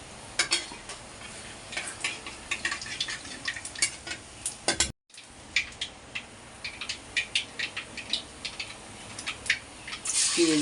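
Broccoli frying in oil with black and white cumin tossed in gives a steady hiss and crackle, broken by frequent clinks and scrapes of a spoon against the pan, close by with a brief dropout midway.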